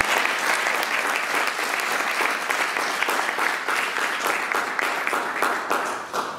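An audience applauds in a steady, dense burst of many hands clapping close by, holding strong for several seconds before easing slightly at the end.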